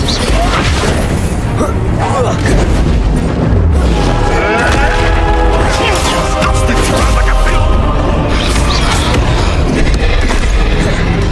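Spell explosions from Hogwarts Legacy: Incendio, Confringo, Depulso and Expulso burst as repeated booms and crashes in dense combat, under a speaking voice calling out the spells.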